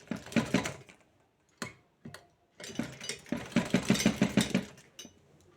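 A sewing machine stitches blouse fabric at close range, running in short rhythmic bursts of rapid needle clatter separated by brief pauses, with no voices.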